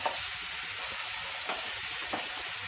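Paste added to browned onions in a pan, giving a steady, fairly strong sizzle with a few brief stirring scrapes.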